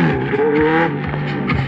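A quad bike fitted with a Yamaha R1 motorcycle engine in place of its original Raptor engine revs loudly and steadily nearby, with rising and falling harmonic engine tones and no speech.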